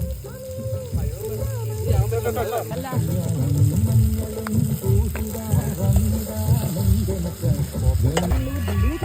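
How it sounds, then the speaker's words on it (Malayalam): Spices with turmeric and chilli powder sizzle and crackle in hot oil while being stirred for a fish curry, with a person talking over the continuous frying noise. "മസാല ഒന്ന് മൂത്ത് വരട്ടെ കേട്ടോ"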